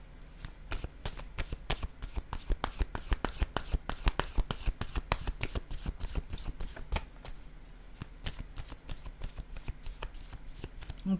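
Tarot cards are shuffled in quick, rhythmic riffling bursts, a close and fairly quiet stream of sharp card flicks that carries on with only brief pauses.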